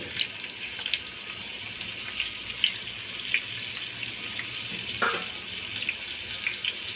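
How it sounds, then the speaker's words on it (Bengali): Potatoes frying in oil in a pan, a steady hissing sizzle with light bubbling and occasional soft pops, moderately close and without voices. "তেলের মধ্যে আলুগুলোকে ভেজে নেব সুন্দর করে।"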